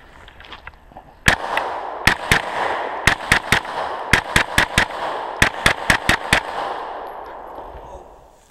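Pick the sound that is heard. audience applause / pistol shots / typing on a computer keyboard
pistol shots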